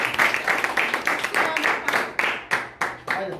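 A small group clapping during a Portuguese-language worship service held in a home, with distinct, uneven claps from a few people and some sharper individual claps standing out near the end.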